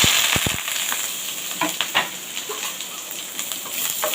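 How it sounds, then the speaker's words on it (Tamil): Onion and curry leaves sautéing in hot oil with fennel and cumin, a steady close hiss with a few light stirring taps near the start and scattered scrapes. "இப்போ நம்ம வெங்காயம் நல்லா பொன்னிறமாக வதங்கிட்டுருக்கு."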